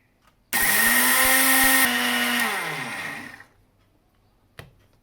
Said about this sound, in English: I'm going to grind cumin seeds, jeera, roasted